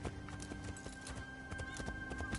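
Horse hooves clip-clopping in the video game Assassin's Creed Shadows, a quick steady rhythm of thuds over faint game ambience, fairly quiet with no speech.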